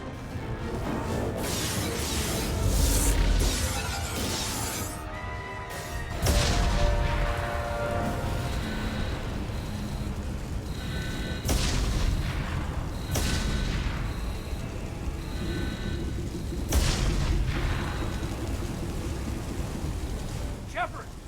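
Heavy explosions and crashing impacts batter a spaceship under attack in Mass Effect 2, loud rumbling blasts recurring every few seconds in dense layers of alarms and debris, with no voices over them.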